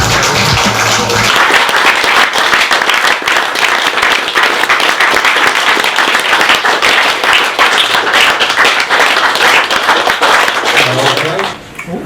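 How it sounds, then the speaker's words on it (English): Audience applause at a classic album listening event, a loud, sustained burst of clapping from a room of people lasting around ten seconds before tapering off, with a voice briefly heard at the very start. "Please, a round of applause for Chris and Helen."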